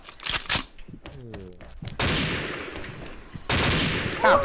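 Gunfire in the shooter game XSHOT comes in dense rapid bursts that fill the second half. A few short sharp shots come first, and a person speaks between them.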